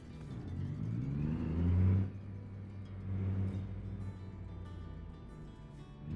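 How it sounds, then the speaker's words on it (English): Road traffic rumbles past a moving truck on a drive, with one vehicle swelling loudly and fading within the first two seconds and a softer pass following, over a constant low engine drone. "Oh, so much traffic."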